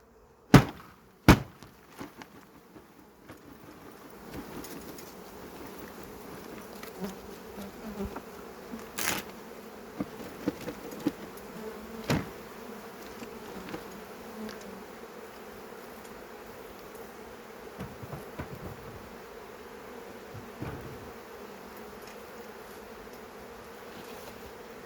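Dense, continuous buzzing of many agitated honeybees swarming close by around a hive, with occasional sharp knocks and thumps at the start and scattered throughout.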